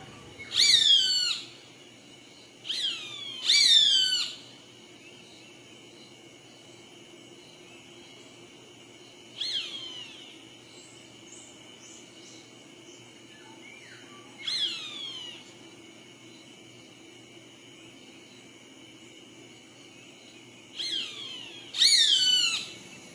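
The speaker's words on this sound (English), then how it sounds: "Roadside Hawk." Roadside hawk calls several times in high, piercing, descending screams, delivered in bursts of one to three cries separated by pauses of a few seconds over a steady background hum.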